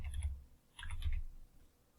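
A few quiet, quick keystrokes on a computer keyboard while entering matrix commands in Mathcad, in two short bursts with no voice over them.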